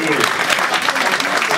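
Audience applause at the opening address of the NPF Championships 2009, a dense, even wash of many hands clapping throughout, close and fairly loud with no break.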